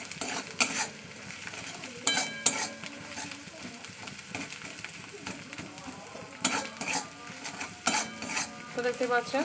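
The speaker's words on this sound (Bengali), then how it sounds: "পুরো এক মিনিট ধরে আমি এরকম কষাবো যতক্ষণ আমার মহাতে তেল ছেড়ে আসছে" Taro pieces are stirred into a spiced masala in a frying pan, with intermittent metallic scrapes and clatters of a spatula against the pan over a soft background, and a brief spoken phrase.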